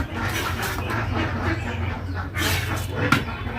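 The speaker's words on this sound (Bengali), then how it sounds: "হাঁস ছাড়িয়ে দিলাম না আগে এগুলি ডাকছে" Ducks on a rural homestead quack repeatedly at close range, with the calls overlapping in a busy, uneven chorus over steady ambient noise.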